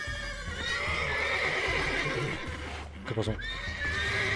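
A horse in The Witcher 3 gives a loud, quavering neigh near the end, following steady hoof clops and harness jingle, with a brief spoken question from a man.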